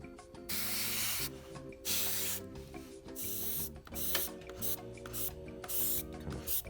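Paint sprays in a fine dusting over a 28mm A15 Crusader tank model, arriving as a run of short, hissing bursts with brief pauses between them, set against soft background music.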